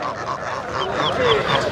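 Ducks quack and honk close by at a rural market in Bangladesh, several overlapping nasal calls over a busy crowd background.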